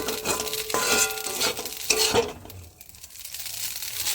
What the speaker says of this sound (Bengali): আর এইভাবে সুন্দর করে আমি নাড়া দিয়ে নিচ্ছি